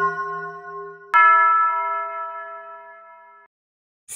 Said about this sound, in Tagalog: Biglang tumunog ang kampana sa simbahan.